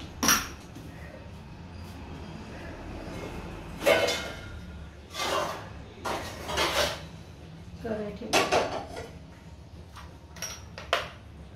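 Onion being cut on a vegetable cutter blade for poha, heard as a series of separate clacking and clattering strokes at close range, spaced irregularly through a quiet kitchen.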